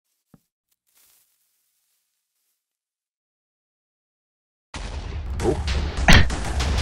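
In Minecraft, a giant zombie is detonated. After a long near-silence, a loud, close burst of explosive blasts erupts with a sharp peak partway through, and a brief exclamation is heard.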